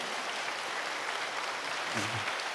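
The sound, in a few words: church congregation applauding newly baptized members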